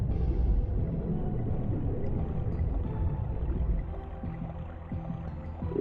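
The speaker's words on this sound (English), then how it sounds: "That's right, it can cause explosions." A low, heavy rumble from an exploding lightning bolt spell in King's Field rolls on steadily, then eases slightly toward the end, with no voices over it.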